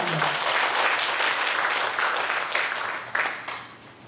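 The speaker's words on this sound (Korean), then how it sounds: "박수로 맞춰주시기 바랍니다." Audience applause fills a hall at a Korean senior association's year-end party, a steady wash of many hands clapping that carries on for several seconds before tapering off, with no talk over it.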